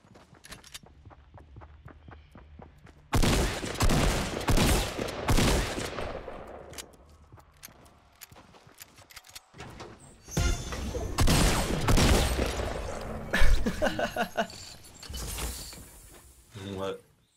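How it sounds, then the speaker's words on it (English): Shotgun blasts in Fortnite: loud, dense bursts of gunfire come in two stretches, with faint clicks and footsteps between them. "Just missed three shotgun shots on a guy"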